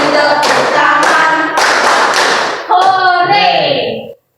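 A school class claps along to a children's action song, a few loud sharp clap bursts falling in time with singing children's voices near the microphone.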